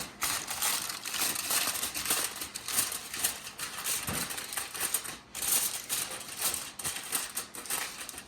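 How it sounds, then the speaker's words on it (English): Aluminum foil crinkles and crumples as it is pressed over a baking dish, a busy crackling texture that continues throughout with a few sharper rustles. "Now before we put it in the oven, we're going to cover it with aluminum foil."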